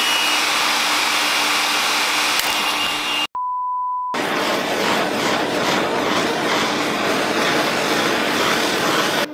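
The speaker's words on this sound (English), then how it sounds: "we're gonna use my very manly heat gun to try and put a bend in it" A heat gun blows a steady, loud roar of hot air to bend a piece of plastic, running continuously apart from a brief pause filled by a pure beep, then resuming at full strength.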